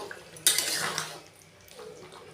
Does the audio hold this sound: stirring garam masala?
yes